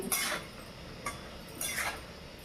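Cut taro stems are stirred in a pan, producing three brief, soft scraping swishes of the utensil moving through the pieces, close and quiet, spaced about half a second to a second apart.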